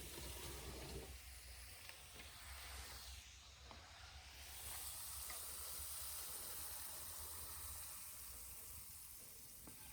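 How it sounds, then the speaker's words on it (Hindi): Hot onions go into a pan for a cheese and onion potato pastry, giving a soft, continuous sizzling hiss that swells slightly midway and stays faint and close. "और इसी में हम गरम गरम प्याज डाल देंगे"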